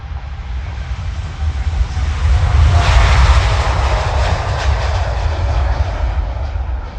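Boeing 787 jet engines roar loudly and continuously during a climb in Microsoft Flight Simulator 2020, a deep rumble with a broad hissing whoosh that swells around the middle and stays strong throughout.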